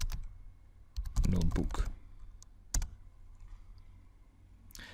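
Someone types on a computer keyboard, with clustered bursts of clicking keystrokes and a few isolated taps, close and fairly quiet, alongside someone speaking.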